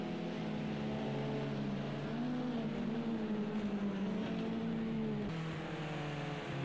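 Beat-up BMW touring cars race at Long Beach in Project CARS 2, their engines droning steadily with slowly shifting pitch, close and continuous, with no talking.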